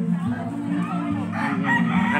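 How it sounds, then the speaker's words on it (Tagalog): A rooster crows at a family christening and birthday gathering, a loud drawn-out call heard close by with people talking over it. "May manok po."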